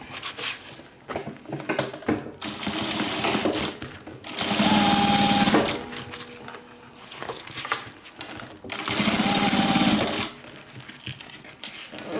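A sewing machine top stitches fabric for a homemade hippie van project in two loud, sustained runs of rapid needle chatter, separated by quieter handling noises and short pauses.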